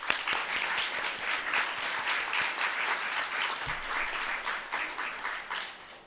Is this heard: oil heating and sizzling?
no